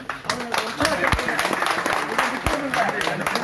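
Scattered hand claps from an audience at a law training class in Kolli Hills ring out alongside a voice speaking over them, close by and moderately loud.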